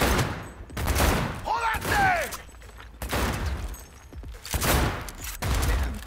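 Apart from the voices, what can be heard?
gunfire in the video game Cyberpunk 2077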